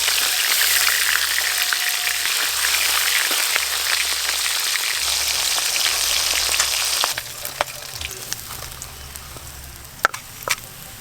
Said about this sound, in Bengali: সব ট্যাংরা মাছ ভাজা হয়ে গেছে